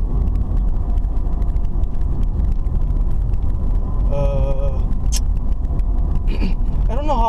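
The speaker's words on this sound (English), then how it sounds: "I'm just driving down Kanjala Drive." A car drives along Kanjala Drive in Chipata, Zambia, its steady engine and road rumble loud and continuous throughout, with faint chirping or voice-like tones briefly rising over it near the end.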